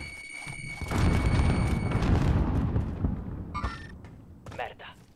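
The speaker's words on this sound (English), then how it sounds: "Grenade out!" A grenade detonates in Call of Duty: Warzone with a heavy booming blast that rumbles for a couple of seconds before fading, followed by scattered game sounds and faint gunfire.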